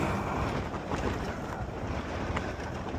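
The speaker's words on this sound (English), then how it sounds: "we will be getting into the strong wind quickly" Strong wind roars steadily past the rider of an e-bike heading west on Green Mountain, a continuous broadband buffeting with no speech.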